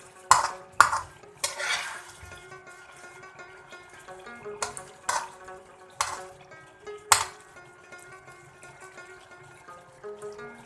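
Chicken karahi with salt and green chilies is stirred and fried in a pan, with sharp metallic clanks of a spoon against the pot and a soft sizzle underneath. The clanks come every second or so.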